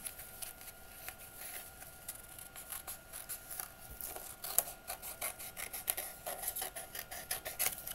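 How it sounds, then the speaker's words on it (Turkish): Scissors cut along the outline of a paper hand shape, giving a steady run of short, close rasping snips that repeat throughout at a moderate level. "elin dış kısımlarını çizginin dışında kalan kısımları ne yapıyorum? Kesiyorum."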